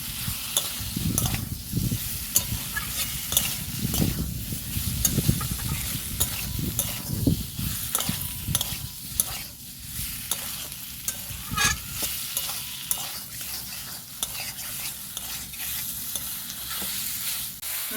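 Boiled potatoes being fried with spices in oil for a potato and rohu fish curry, sizzling steadily and close by, with a spatula scraping and stirring in irregular bursts throughout and no talking.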